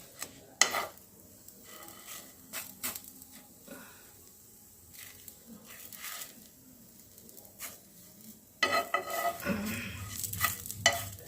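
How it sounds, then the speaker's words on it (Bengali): Patishapta pitha rolled with jaggery filling frying in a pan, a quiet sizzle broken by scattered spatula scrapes and utensil clinks, growing louder and busier near the end. "এরকম করে আমি সবগুলোকে ভেজে নিচ্ছি, তুলে দিচ্ছি"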